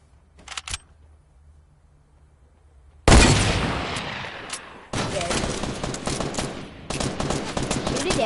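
Rapid video game gunfire shooting down a target, loud bursts of automatic shots that start abruptly and continue in dense volleys with short gaps, after a brief faint click early on.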